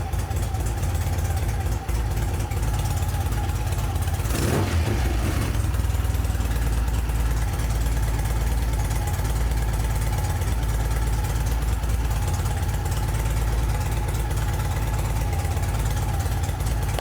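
A Norton motorcycle engine idles steadily after being kick started, a loud, even, continuous running drone close by with no speech throughout.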